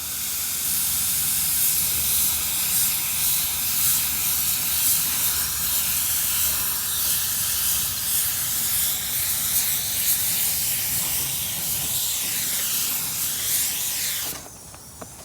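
Spray gun laying down a heavy flow coat of automotive clearcoat, a steady loud hiss of atomized spray running continuously for about fourteen seconds before cutting off abruptly near the end.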